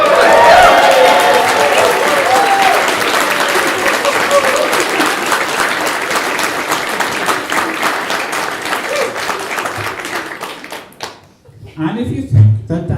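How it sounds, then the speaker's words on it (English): Wedding guests at a humanist ceremony burst into loud, sustained clapping and cheering that gradually thins out, ending with a quieter patch and a voice speaking. "let me hear you clap and roar"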